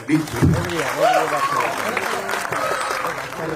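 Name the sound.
audience applause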